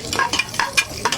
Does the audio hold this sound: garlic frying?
yes